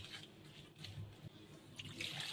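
Water is poured out for hand-washing in a home kitchen, giving soft, uneven splashes and trickles at close range, quiet and broken into short bursts.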